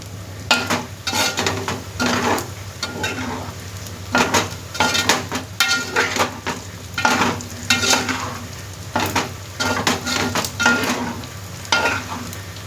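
Mutton fries in a pan with a continuous sizzle while a utensil scrapes and clinks against the metal in repeated stirring bursts, close and loud, with no voices.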